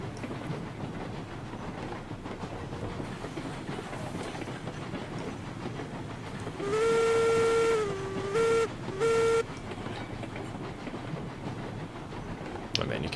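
Steam locomotive whistle in the Railroads Online video game, sounding loud and tonal for about a second, then two shorter blasts, over a steady rumble of rolling train wheels.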